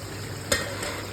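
Duck meat fries in a pan with spices, a constant low sizzle broken by one sharp scrape of stirring, close up with no talk.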